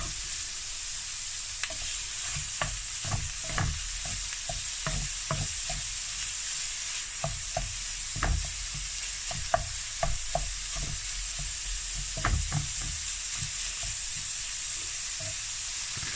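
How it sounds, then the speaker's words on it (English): Meat frying in a pan for a pasty filling sizzles steadily while a utensil stirs and scrapes it in irregular clattering strokes, close and clear, with no talk. "Now we're just going to mix this all together so we can get an even cook through and really spread around that meat."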